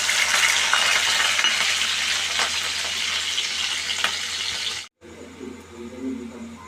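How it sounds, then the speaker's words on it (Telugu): Onions, green chillies and curry leaves sizzle loudly in hot oil for a Telugu tempering with lentils and mustard seeds, a steady dense hiss with small pops; it cuts off abruptly near the end and resumes more quietly. "వేసిన తర్వాత ఉల్లిగడ్డలు, పచ్చిమిర్చి, కరివేపాకు వేయాలి."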